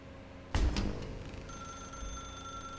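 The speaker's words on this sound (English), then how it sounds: "Now pick up the phone," A telephone rings inside a dark room in The Stanley Parable, starting with a sudden clattering burst that settles into a steady, moderately loud ring with a faint tone lingering behind it.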